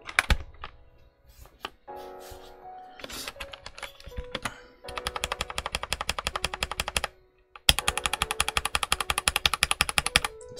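A single lubed Red Dragon switch on a Risophy PC404 75% keyboard, pressed in bursts of sharp, close clicks, some rapid and evenly spaced, others irregular, with brief pauses between runs and no talking.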